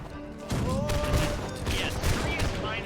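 Rifle volley fired on command by a line of soldiers in a video game, a sharp crackling burst of many near-simultaneous shots that trails into rumbling echoes.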